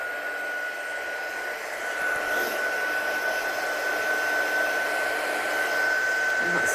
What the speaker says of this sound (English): So get your gun hot when you're heat embossing